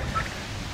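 A turkey gobbling outdoors on a very windy day, a brief faint warbling call heard under heavy wind rumble.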